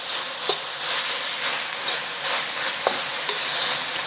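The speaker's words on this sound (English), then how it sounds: "And then just stir it all together." Garlic and ginger sizzle in a pan for an Asian-style pasta sauce while a utensil stirs them, giving a steady hiss broken by several brief scraping taps, close and fairly loud.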